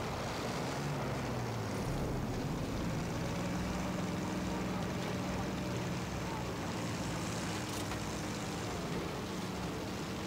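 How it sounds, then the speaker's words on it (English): A heavy bomber in Battlefield 1 drones past with a dense, continuous propeller-engine roar that stays loud and steady throughout, mixed with battlefield noise and no clear speech. "That heavy bomber is doing bits."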